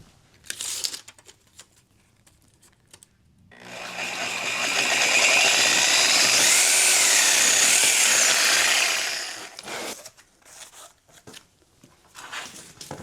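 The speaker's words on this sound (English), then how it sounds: "So I'll go outside and mark it on the wall and start cutting from the outside." A power tool cuts a hole through the wall of an old bank building in one loud, continuous grinding burst of about six seconds, with quieter clatter and handling noises before and after.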